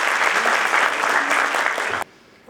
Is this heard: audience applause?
yes